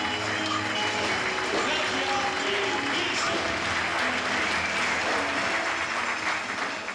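Sustained applause from a circus audience at the end of a show, with a dense, steady wash of clapping lasting throughout, close and loud, with some crowd voices and cheers mixed in.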